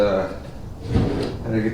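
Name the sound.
drawer being pulled out of a chest of drawers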